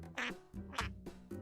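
A duck quacks in a closet, several short nasal quacks in quick succession, close and fairly quiet, with no talk over them.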